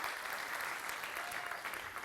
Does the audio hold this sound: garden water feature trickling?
no